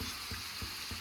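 Pre-boiled potato, cauliflower and carrot sizzle in a pan during tadka tempering, a steady close hiss punctuated by soft, regular stirring knocks.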